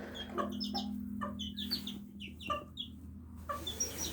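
Laying hens cluck and chatter in a garden, giving short, repeated calls at close range over a steady low background hum, with no voices.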